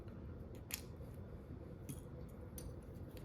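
Small cutters snipping excess component leads on a PCB, a few faint sharp clicks spaced apart over quiet background noise.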